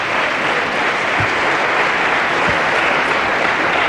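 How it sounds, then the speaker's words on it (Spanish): Dense, sustained audience applause fills a Spanish TV debate studio at a steady level throughout, with no talk over it. "cuando concluyan los aplausos dirigidos contra el Partido Popular, reanudo el debate"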